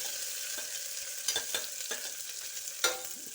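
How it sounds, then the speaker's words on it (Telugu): Onions sizzle in a pan for a soya chunk curry, a soft steady frying hiss broken by several scraping stirs of a spatula, close and fairly quiet with no talking. "వీటిని వేయించుకుందామండి"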